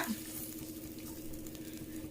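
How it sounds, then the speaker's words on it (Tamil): Close, quiet stirring of onions in a pot of boiling water, with soft scraping and a gentle bubbling hiss underneath. "இந்த கொதிக்கிற தண்ணியில் இந்த வெங்காயத்தை ஃபஸ்ட்டு போட்டுடலாம்."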